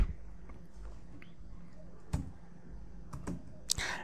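Keys on a computer keyboard tapped in a few scattered clicks over a low room hum, typing search words on a freelancing site, with no talk.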